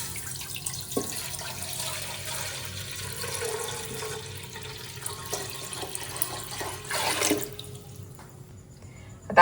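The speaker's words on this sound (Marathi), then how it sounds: "आता आई पाणी टाकते त्याच्यामध्ये." Water poured from a vessel into a cooking pot while making traditional Konkan amboli: a steady, close splashing and trickling stream with a few clunks, ending in a louder splash, and no talk.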